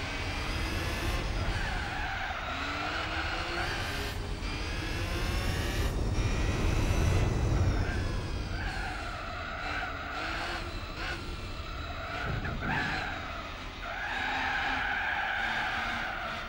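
Race cars in Gran Turismo 4 roar through gear changes with rising and falling engine pitch while tires squeal and skid repeatedly, loud and continuous throughout.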